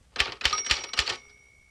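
Manual typewriter keys struck during 1960s touch typing practice, five crisp evenly spaced clacks in quick rhythm, close and alone, followed by a faint lingering ring.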